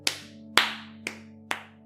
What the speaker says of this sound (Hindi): ताली बजाते हैं भाई